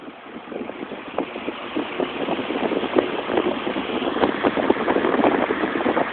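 A Manning Bowman electric box fan motor starts up in a cold room, giving a steady mid-pitched whirring hum with fine rhythmic ticks that grows slightly louder over several seconds, close by and alone.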